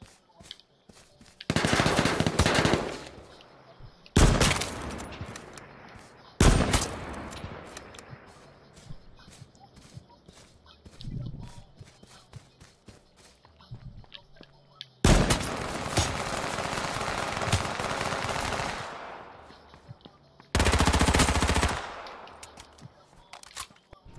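In the battle royale video game H1Z1, loud bursts of automatic gunfire come in several long, dense volleys, separated by quieter gaps with occasional single sharp shots.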